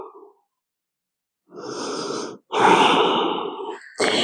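Deep breathing during a Hatha yoga session: a long audible inhale, then a pause before a strong, rushing exhale that trails off, with another breath starting at the end; close and clear, no talking.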